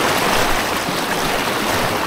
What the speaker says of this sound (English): The water is quite strong, as you guys can hear.